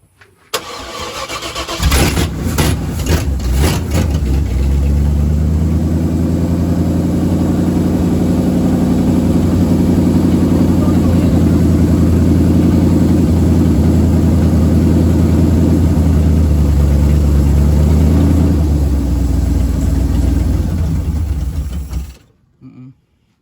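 A Chevy small-block 400 fitted with a new Holley carburetor cranks a few times, catches and settles into a loud, rumbling idle that holds steady for many seconds before shutting off abruptly.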